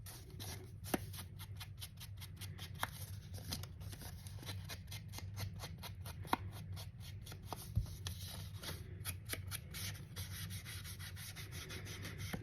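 Scissors snip through a sheet of paper being trimmed for a handmade Christmas junk journal, giving quiet, repeated crisp cuts with soft rubbing and rustling between them and no voices.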